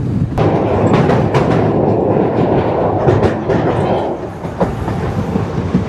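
The Yal Devi train in Sri Lanka runs fast past paddy fields with a loud, continuous rumble and rhythmic clickety-clack of wheels on rail joints, heard close and steady throughout.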